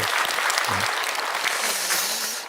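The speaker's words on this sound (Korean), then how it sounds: "박수 한번 해주셔요." A church congregation at a dawn prayer service clapping together in a full, continuous burst of applause that holds steady and fades slightly at the end, with a faint voice underneath.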